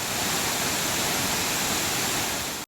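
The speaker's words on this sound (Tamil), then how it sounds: "காட்டோடைகள் சுருளி அருவியில் கலந்து கொட்டுகிறது" The flooded Suruli waterfall pours continuously, its forest streams swollen by heavy rain, producing a dense, steady roar of falling water that fills the scene without pause.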